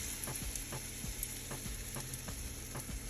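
Spoonfuls of banana fritter batter fry in hot oil with a steady, close sizzle, punctuated by soft repeated taps as more batter goes into the pan.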